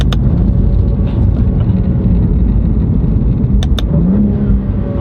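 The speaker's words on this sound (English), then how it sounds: "just listen to the combination of the paddle shifter plus the exhaust" A BMW G87 M2 with a full titanium equal-length exhaust drones loudly at speed with a deep exhaust note, punctuated by a couple of sharp crackling pops, alongside paddle shifts.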